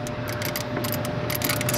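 Electric ratchet spinning bolts during a KW coilover install on a 993 Porsche Carrera, a steady mechanical whir with bursts of rapid clicking, close and continuous without talk.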